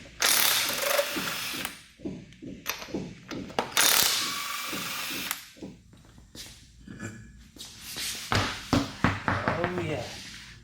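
Ratchet wrench clicking as it turns a 22 mm socket on the front wheel bearing of a Ford E-series van, E250 to E450, with repeated bursts of rapid clicks close up, and talk between them.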